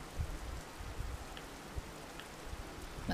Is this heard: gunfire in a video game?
no